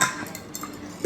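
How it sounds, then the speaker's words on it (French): Clean dishes and a large glass of water being set out in a home kitchen, giving a few light clinks and taps of glass and cutlery at close range. "Je vais mettre un grand verre d'eau."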